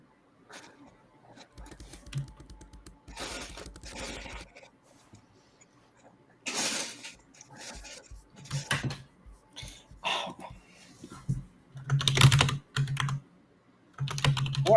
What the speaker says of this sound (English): What are these furious typing sounds?